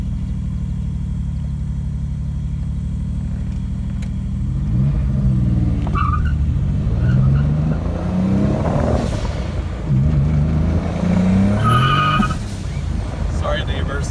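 A Turbo Legend car revs up from idle, its engine note rising and falling in a few rough rips with some tire noise. The sound is loud and close, with voices heard faintly over it.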